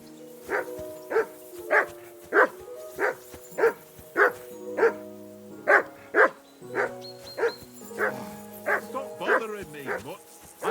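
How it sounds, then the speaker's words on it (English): A dog in the medieval game Kingdom Come: Deliverance 2 barks repeatedly in a steady rhythm of sharp, loud woofs, with a few yips and whines toward the end. "you can hear that damn dog of yours barking"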